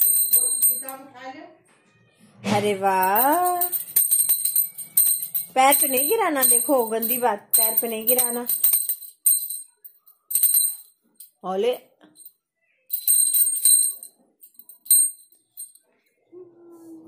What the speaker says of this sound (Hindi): पापा कैसे घंटी बजाते हैं बताओ मम्मा को